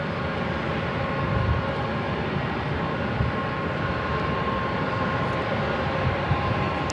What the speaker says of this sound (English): there's a Delta 767 second in line. Loud.